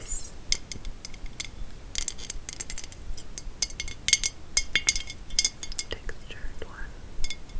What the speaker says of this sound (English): it's a textured clear pink bauble.